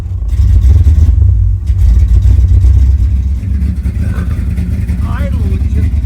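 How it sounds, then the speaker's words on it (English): A 1968 Camaro SS big block V8 idles loud and close with a deep continuous rumble that wavers slightly in level, and a faint voice comes in briefly toward the end. "moments later, the fluttering Denny was describing became evident"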